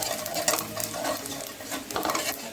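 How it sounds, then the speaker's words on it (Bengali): A bay leaf and black cumin seeds fry in hot oil for a Bengali rohu fish kalia: close, crackling sizzle with quick stirring scrapes and faint utensil clinks, without talking. "ফোড়নটা খুব ভালো মতো করে ভেজে নিচ্ছি।"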